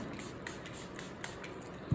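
Soft hissing bursts from a spray bottle of brush reviver and cleaner, a few quick sprays in a row, close by and fairly quiet.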